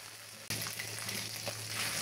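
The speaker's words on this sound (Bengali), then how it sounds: "আর এদিকে আমি তেলের মধ্যে এলাচ, দারচিনি আর তেজপাতা দিয়ে আর একটু কুচানো পেঁয়াজ দিয়ে দিয়েছি।" Cardamom, cinnamon, bay leaf and chopped onion hit hot oil, setting off a sudden loud sizzle that carries on steadily and evenly, alone with no talking.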